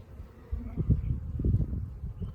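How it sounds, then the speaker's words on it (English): Honey bees buzz low and steady on a beehive frame being lifted from a split nuc box, with a dull rustling hum swelling midway through. "This one has a lot more bees on it."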